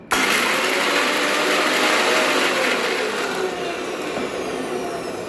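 A mixer grinder whirs at high speed, coarsely grinding ingredients with a spoonful of yogurt, a dense continuous roar starting abruptly and easing slightly toward the end.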